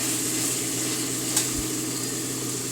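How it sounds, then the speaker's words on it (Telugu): Chicken with masala sizzles in a hot pan over high flame, a steady dense frying hiss with a faint scrape of stirring and no talk. "మళ్ళీ ఒకసారి హై ఫ్లేమ్ మీద కరెక్ట్గా కలుపుకోవాలి."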